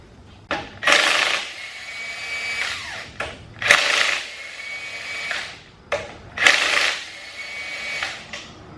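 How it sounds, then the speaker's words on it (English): An impact wrench hammers loose the girdle bolts on a junkyard Honda D16Y8 engine block during teardown, sounding three loud, close, buzzing bursts of about two seconds each, separated by short pauses, with no talking. "the girdle bolts I'm going to hit with the impact, bust the girdle off of the thing"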